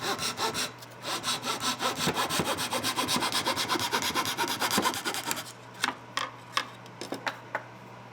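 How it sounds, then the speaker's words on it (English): A saw cutting a square from a scrap of 1/8 inch spruce, with rapid, even rasping strokes for about five seconds, then a few separate clicks and taps. "I'm going to cut a square from this scrap of 1/8 inch spruce for the bottom"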